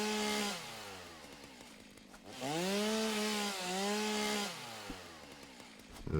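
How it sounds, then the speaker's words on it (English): Chainsaw in the Satisfactory video game revving through wood in two loud bursts, its pitch rising and falling as it bites, with a quieter idling stretch between and after. "Chainsaw away here."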